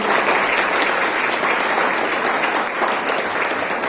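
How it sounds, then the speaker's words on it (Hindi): Loud, dense applause from an audience honoring a guest, Suresh, at a company event near Jim Corbett National Park, Uttarakhand, a steady unbroken roar of clapping held at full strength from start to finish. "सुरेश सर के लिए एक बार जोरदार ताली होना चाहिए"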